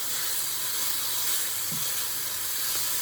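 Onions frying in a pan, a steady close-up sizzle and hiss that holds evenly throughout with no pauses.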